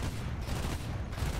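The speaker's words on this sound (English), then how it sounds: "I'm going for another cannon strike on that open top vehicle" Aircraft cannon fire in a combat flight video game rattles in a rapid, dense burst, continuous and moderately loud throughout the short stretch.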